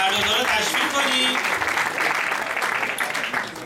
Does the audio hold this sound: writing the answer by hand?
no